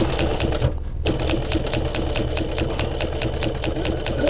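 A sewing machine stitching upholstery during the full restoration of a Land Rover 90, a loud, even, rapid needle clatter close by with a continuous mechanical hum under it and one brief pause near the start.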